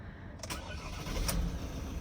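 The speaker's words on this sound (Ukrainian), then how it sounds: "Спробуємо завести автомобіль, тестуються всі системи" A 2016 Ford Transit Custom 2.2 diesel van engine cranks briefly and catches, settling into a steady low idle with a broad rumble throughout.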